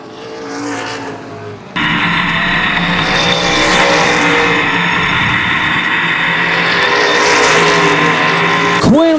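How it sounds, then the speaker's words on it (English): ARCA/CRA Super Series stock race cars at Baer Field Speedway, a loud sustained roar of several engines passing close, building abruptly after a quieter start and holding near-constant to the end, with no voices. "Hance trying to find a lane that will allow him to close the gap on the 28 of Quinlan with the laps winding down"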